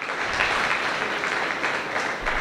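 Applause from a church audience fills the moment, a dense, continuous clapping that stays loud and even throughout.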